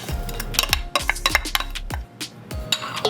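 Chicken pelau ingredients with salt, black pepper, tomatoes and onions being stirred in a pot, a series of clattering scrapes and knocks of a utensil against the pot, close and fairly loud, with no talking.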